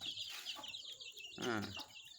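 Soft peeping and cheeping from young chicks, a few short calls close by against a quiet background, one call rising louder near the end.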